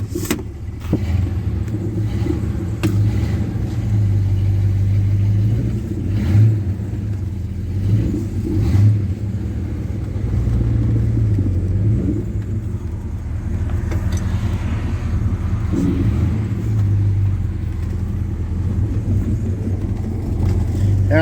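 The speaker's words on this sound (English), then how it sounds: "open air motoring in the 70 Duster" A 1970 Plymouth Duster's engine rumbles steadily while driving with the top open, with occasional revving swells and road noise throughout.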